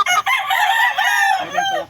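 A rooster gives one loud, close crow that lasts about two seconds, with a shrill, strained tone that rises and then drops away at the end.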